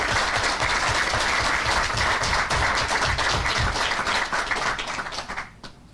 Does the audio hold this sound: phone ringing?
no